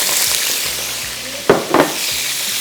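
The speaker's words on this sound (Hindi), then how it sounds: "यहाँ पे ऑयल गर्म हो गया। सबसे पहला काम, इसमें स्लाइस किए हुए मशरूम और ड्यू ड्रॉप के इनको शामिल किया।" Sliced mushrooms frying in hot oil in a frying pan give a loud, steady hiss, with a couple of quick clattering stirs in the middle, heard up close and without speech.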